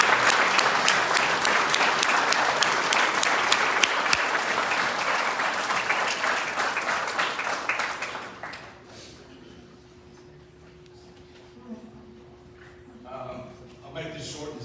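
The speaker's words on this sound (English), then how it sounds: "But a round of applause for Mr." Loud, dense applause for a Hall of Fame inductee, Tommy Mitchell, sustained for about eight seconds before dying away to a quiet room with scattered murmurs and a faint steady tone.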